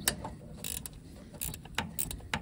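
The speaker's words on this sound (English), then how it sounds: "Got my ratchet wrench here." A ratchet wrench tightens a connection in the air system of a Ram with a 6.7 Cummins engine, giving short bursts of close metallic clicking separated by brief pauses.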